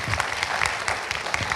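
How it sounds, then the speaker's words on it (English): Audience applause for a panel at a Gandhi memorial panel discussion, a short burst of dense clapping from a crowd, steady and fairly loud throughout. "I ask you to give the panel a round of applause"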